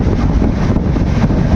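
Loud, steady roaring wind rushing past the microphone on a fast-moving train, a dense low buffeting rumble with no pauses.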